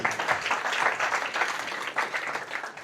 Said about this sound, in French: Je vous propose de l'applaudir